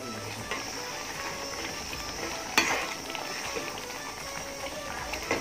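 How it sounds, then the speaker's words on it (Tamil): Brinjal fries in oil for Tamil vatha kuzhambu in a village kitchen, making a continuous moderate sizzle with stirring and one sharp clatter midway, and no talking. "வத்தக்குழம்புக்கு கத்திரிக்காய் பொரிச்சிட்ருக்கேன் எண்ணெயில்"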